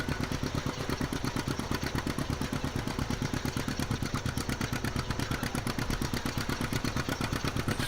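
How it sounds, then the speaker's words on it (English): A tractor engine in the Heritage farming game chugs steadily at idle-like speed, a loud, even, rapid thumping beat that holds constant throughout without talk. "It's so relaxing behind this engine."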